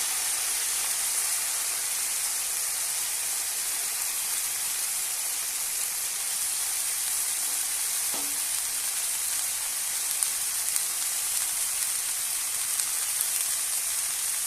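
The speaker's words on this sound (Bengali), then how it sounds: "এবার দিয়ে দেবো সজনের ফুল।" Drumstick flowers go into spiced lentils cooking in a pan, bringing a soft, continuous sizzle and crackle throughout, with one small clink partway and no one speaking.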